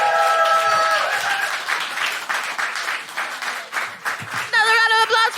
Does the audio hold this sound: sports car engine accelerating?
no